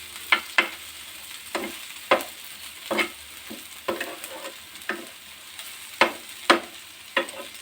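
Eggplant being stirred with spices in a pan, a low sizzle broken by regular spoon scrapes and knocks about every half second to a second, close and distinct.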